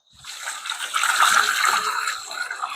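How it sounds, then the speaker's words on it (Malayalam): Water gushing steadily out of a drainage valve on a fish tank, a close, continuous rushing flow that swells after a quiet start and holds strong to the end. "ഈ വാൽവ് തുറന്നാല് ഫസ്റ്റില് കുറച്ച് നല്ല വെള്ളം വരും"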